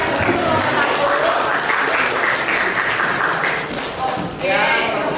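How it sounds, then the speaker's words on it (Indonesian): A classroom group gives loud, sustained applause for the first presentation group, steady dense clapping that dips briefly near the end and then swells again. "Kita beri aplaus yang meriah dulu kelompok 1."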